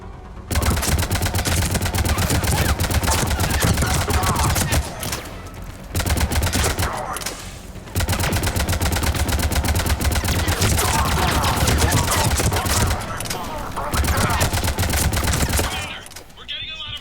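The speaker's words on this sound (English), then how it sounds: "We're getting a lot of mortar fire." Mass Effect 3 combat: dense, continuous bursts of gunfire and heavy impacts, with a couple of short pauses, loud and close.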